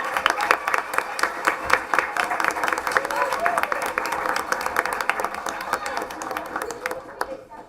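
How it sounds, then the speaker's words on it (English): A full room of chess parents and students at a school district board meeting claps for the chess team and their coach, steady dense applause with voices murmuring underneath until it drops off near the end. "Please give a huge round of applause to Mr."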